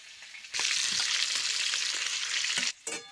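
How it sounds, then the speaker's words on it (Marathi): Stuffed chilies frying in hot oil, a loud, steady, close hiss and crackle that starts abruptly and runs almost unbroken before cutting off briefly near the end. "असे तेलात मिरच्या असं चांगल्या भाजून घ्या."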